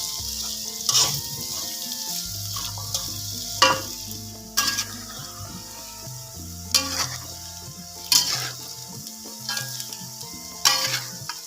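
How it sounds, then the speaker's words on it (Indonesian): Food frying in oil for Indonesian sambal goreng telo, a continuous close sizzle with repeated sharp scraping strokes of a utensil against the pan, while soft background music plays underneath. "Ini kita goreng dulu sampai betul-betul matang dulu lur ya."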